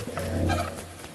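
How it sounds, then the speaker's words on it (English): A chicken in the video game Animal Company gives a short, loud, clucking gobble-like squawk close by, alone without any talk. "the chicken's chasing me"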